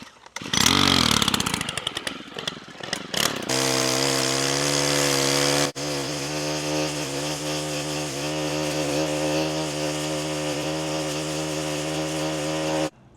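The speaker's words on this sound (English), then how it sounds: "string trimming sucks" A petrol string trimmer revs hard as it cuts grass, then settles into a loud, sustained buzzing drone with a short break partway through, close up and without any voices.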